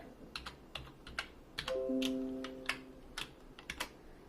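A password is typed on a computer keyboard with one hand. Nearby keys click in an uneven, halting rhythm of separate taps, with a short tonal beep partway through, in a quiet room without speech.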